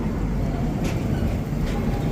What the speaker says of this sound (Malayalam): നമ്മളിപ്പോൾ എത്തിയിരിക്കുന്നത് വിജയവാഡ റെയിൽവേ സ്റ്റേഷൻ.